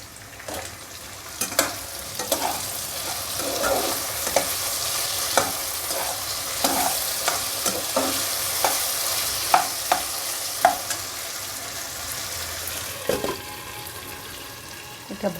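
Potatoes fry in a pan on a home stove, a low constant sizzle broken by repeated sharp scrapes and knocks of a spatula stirring at an irregular rhythm.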